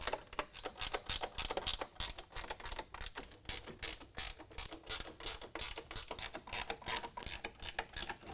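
A ratchet tightens serrated flange nuts onto bolts while fitting black running boards to a 2019 Chevy GMC 1500, giving a long, steady run of rapid, close, loud clicks with no talking.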